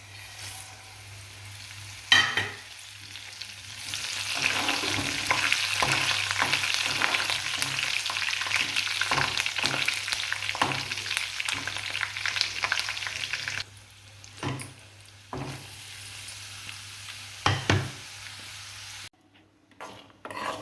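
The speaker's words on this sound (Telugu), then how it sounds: "క్యారెట్ ఫ్రై కావాల్సిన అన్ని దినుసులు అయితే వేగించేసుకుంటున్నాను" Spices for a carrot fry frying in a pan, a continuous close sizzle with occasional stirring scrapes and clinks, quieting in places and briefly falling silent near the end.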